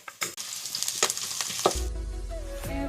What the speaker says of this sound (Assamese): এইফালে ৰং নিমখ সকলোবিলাক দি লৰাই দিছোঁ অলপ